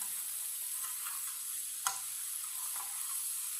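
Okra and egg frying in a pan while being stirred, a steady close sizzle running throughout with a few soft scraping strokes and one sharp clack of the utensil against the pan midway.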